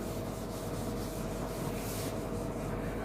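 A cloth or duster rubs writing off a classroom board in a steady, continuous scrubbing sound, close and fairly soft, with no talking.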